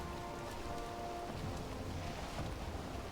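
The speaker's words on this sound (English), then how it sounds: "We've got a bit of an ocean storm, it seems." Ocean storm in the video game Valheim, with steady heavy rain hissing on the surface and low rumbling wind and thunder underneath, a dense continuous wash of sound with no talking.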